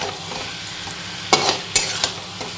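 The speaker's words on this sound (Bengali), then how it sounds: "ভালো করে আমি এখন মিশিয়ে নিচ্ছি চিকেনটা।" Chicken sautéing with spices in a pan sizzles steadily at close range. A few sharp spatula scrapes and stirring knocks break through the hiss.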